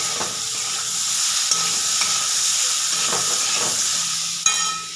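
Ginger and green chili crackle in hot oil in a pan, a continuous close sizzle broken by a few light taps and one sharper clack of a utensil, with no voices.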